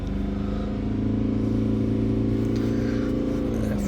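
Diesel engine of a Toyota Hilux held at a fast idle near 3000 RPM, a loud steady drone with a constant hum and only slight wavering.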